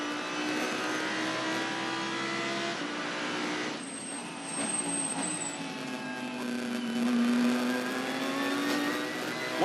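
A GT race car in Gran Turismo Sport holds a steady, loud engine drone on the Bathurst circuit, with the pitch dipping and rising again through the lap.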